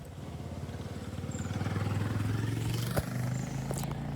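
A motorcycle engine drones steadily on a long road ride, a close continuous rumble with a slight rise in pitch and a brief knock partway through.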